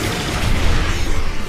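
Explosion attack in One Piece Pirate Warriors 4, a dense, loud, sustained blast roar with rumbling low end that fills the whole moment without pause.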